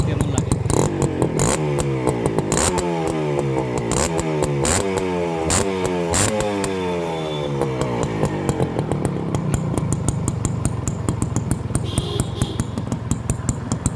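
A Honda H100S motorcycle engine runs close by, with a rapid, rattly idle broken by repeated revs that rise and fall, and a person talks over it at times.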